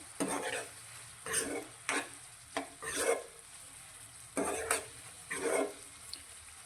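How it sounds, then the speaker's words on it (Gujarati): Spices are stirred into a capsicum (bell pepper) curry in a pan. Five or six close scraping sweeps of a spoon run over a soft, steady sizzle, with no talking. "બધા જ મસાલાને શાક સાથે સારી રીતે મિક્સ કરીશું"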